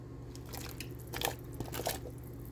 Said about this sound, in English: We're going to put in that zucchini.